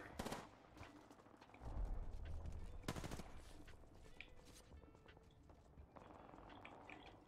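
Gunfire in the online battle royale game Apex Legends, with several bursts of rapid shots and a heavier burst near the middle, set against game noise and some distant effects.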